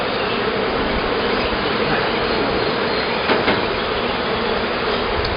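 Honeybees swarm around an opened backyard hive during a mite check, a dense, steady buzz filling the air close by, with one brief louder pass partway through and no talking.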